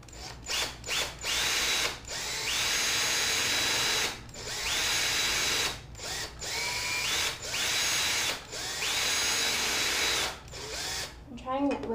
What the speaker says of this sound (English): So this one I'm just doing with the big drill bit.